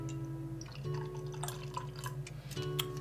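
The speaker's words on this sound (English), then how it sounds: "we're pouring it into my Lake Base tulip stock glass. Give it a nice little bit of a pour here" Muskoka craft lager, an unfiltered beer, poured into a tulip glass, with a soft gurgling trickle and fizz close by, steady and quiet against a faint background hum.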